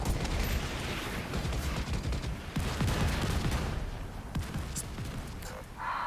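A dense video-game mortar barrage mixed with gunfire, a continuous rumble of overlapping blasts and rapid shots at close range, loud and unbroken throughout with no talk.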